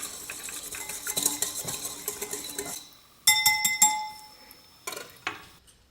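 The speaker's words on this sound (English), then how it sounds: "I'm going to give it another quick whisk until it's well combined" Cutlery clinks and scrapes against a bowl as a marinade with Aleppo pepper flakes and rib rub is whisked briskly, with a short pause before several ringing taps of the whisk on the rim.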